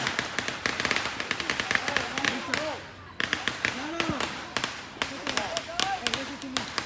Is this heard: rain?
no